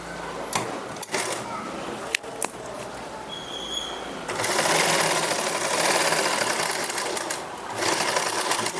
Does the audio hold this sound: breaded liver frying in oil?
no